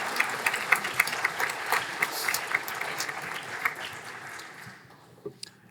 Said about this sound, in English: Let's give a round of applause to the medical lab assistant cohort